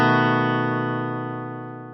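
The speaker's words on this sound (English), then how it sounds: "what's happening here is the bass note is played first before the rest of the chord is strummed" A guitar bass note struck first, followed by the rest of a chord strummed, ringing with a distorted, reverberant tone that decays slowly over two seconds without any talking.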